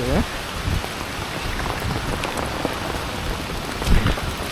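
Heavy rain pouring during a windy storm at a rural market, a steady close roar of drops striking surfaces, with brief voice-like sounds near the start and end.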